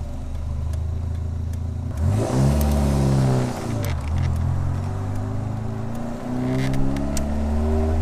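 Morgan 4/4 engine revving hard under acceleration, a loud close drone with rising and falling gear-change sweeps, holding steady at high volume with no talk.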